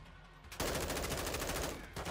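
Automatic gunfire in the video game Modern Warfare 2, a loud dense burst of rapid shots starting about half a second in and running almost continuously to the end.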